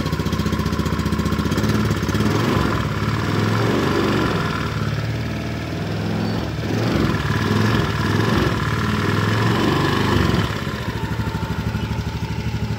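Honda Beat scooter engine idling steadily at close range while warming up after an oil change, a constant mechanical putter with light clattering.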